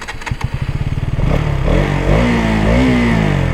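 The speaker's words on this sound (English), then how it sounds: "So the exhaust sound is also slightly mellow." A KTM Duke 200 BS6 motorcycle engine and exhaust fire in rapid close pulses as the throttle opens, then blend into a loud, sustained rising rev that holds steady.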